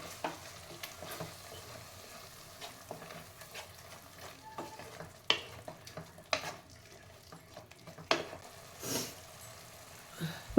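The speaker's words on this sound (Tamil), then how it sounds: "மசாலாவும் நல்லா அது எண்ணெயிலே நல்லா வதக்கலாம்." Masala sautéing in hot oil for a brinjal and drumstick kulambu, with steady soft frying and repeated scraping stir strokes of a spoon against the pan, moderately close and alone.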